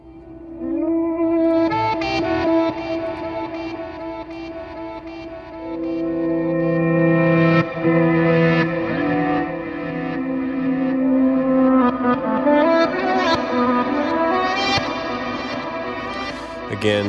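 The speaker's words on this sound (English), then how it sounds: "like the reverse guitar thing with a lot of reverb and delay" A reverse guitar from the Heavyocity Scoring Guitars instrument swells in with heavy reverb and delay, forming a sustained, shimmering wash of layered tones that builds and lingers with no voices.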